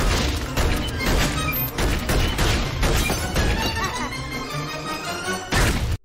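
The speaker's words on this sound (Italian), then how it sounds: "Undici colpi di fila da questa arma giocattolo." A toy gun in the animated film Ratatouille fires eleven rapid shots in a row. The dense, loud stream of cracks and crashes runs almost without a break until it cuts off abruptly.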